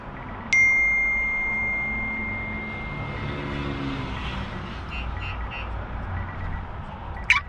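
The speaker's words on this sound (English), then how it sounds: "Now the alarm's unlocked." A StarLine S96 alarm on a 2010 Honda Accord gives a sharp electronic chirp as it unlocks, a tone that rings briefly and fades, followed by a quiet stretch and a second short chirp near the end.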